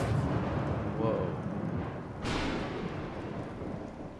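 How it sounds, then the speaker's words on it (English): Thunderstorm in the video game Bendy and the Dark Revival: a steady, heavy rumbling wash with a sharper thunder crack partway through, loud and continuous throughout. "Thunderstorm."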